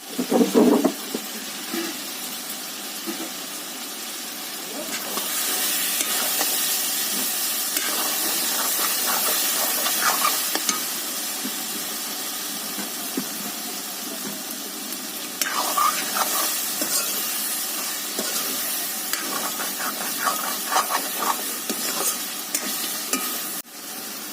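Food sautéing in a pan at home, a steady loud sizzle and hiss running throughout with repeated scraping stirs of a spatula, recorded close for over twenty seconds.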